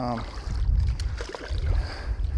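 An Old Town Saranac 146 canoe is paddled solo on slightly choppy water with a few whitecaps, giving low, repeated splashing strokes and water wash under gusty wind noise, close to the microphone.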